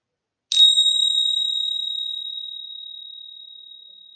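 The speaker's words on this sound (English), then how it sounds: "I'm going to ring the bell" A single meditation bell strikes once, bright and clear, its pure ringing tone sustaining and slowly fading over several seconds in an otherwise silent room.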